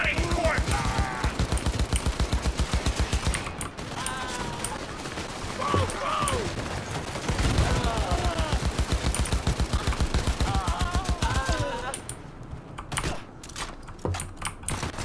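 Rapid video game gunfire rattling in fast, regular bursts through most of the stretch, loud and close, with someone talking and shouting over it.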